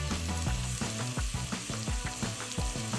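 Mixed vegetables with capsicum and a little salt frying in a pan for veg pulao give a steady, loud, broadband sizzle, with rhythmic low knocks of stirring throughout.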